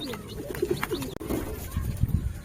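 Pigeons in a loft give soft, low coos in short repeated bursts while they peck at grain, with light rustling and faint background noise.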